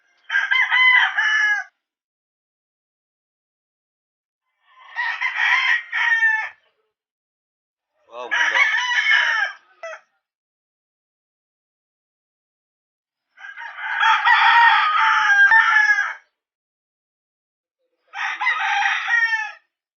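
Five loud crows from fighting roosters ring out one after another with short silent gaps between them, close by and with nothing else in the background, in Malvar, Batangas.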